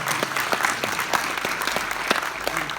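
Applause from an audience honouring the 2017 boys championship team, a dense, continuous clapping at moderate level with sharper individual claps standing out through the wash.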